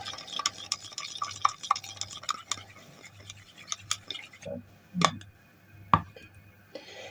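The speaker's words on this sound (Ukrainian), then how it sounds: "розмішую добре" A spoon stirring annatto coloring into milk, with light repeated clinks and scrapes against the container in an irregular rhythm, close and fairly quiet, ending with a couple of sharper knocks.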